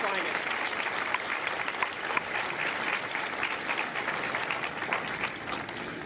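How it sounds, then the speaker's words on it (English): Sustained applause from a large crowd at a Marine Corps recruit graduation at MCRD San Diego, honoring the recruiters, steady and dense for the whole stretch with no break. "So please, join me in a round of applause for our Marine Corps recruiters"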